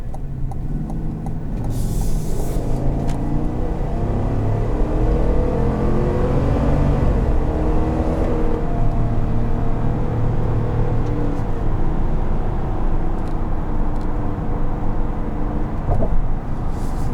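The 6.2-liter V8 of a 2021 GMC Yukon Denali accelerates hard, a loud low engine rumble rising and holding steady from inside the cabin with road noise beneath.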